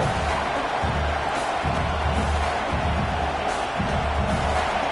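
Football stadium crowd at a UFL versus Ole Miss game, a steady broad roar of many voices filling the whole stretch at a constant level with faint cheering swells, with a commentator talking over it.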